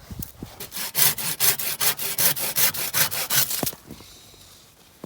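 A hand saw cuts through pruned walnut or grapevine branches in January, about a dozen rhythmic rasping strokes close by, then the cutting stops and a few faint handling knocks follow.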